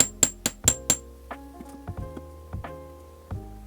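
Light hammer taps flattening a copper wire chain link, a quick run of four sharp metallic strikes followed by softer, spaced taps, close and clear with no talk.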